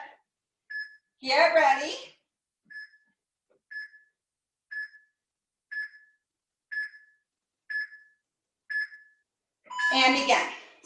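A workout interval timer gives about eight short, evenly spaced beeps roughly one second apart, with a person speaking briefly before and after the countdown.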